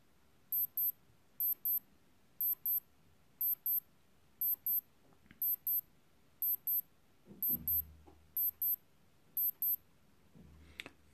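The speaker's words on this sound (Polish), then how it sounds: "jest to alarm, który ma 10 takich podwójnych piknięć" A Casio G-Shock GS-1100 wristwatch alarm gives ten high, thin double beeps at a steady rhythm, faint and close, with a few soft handling bumps underneath.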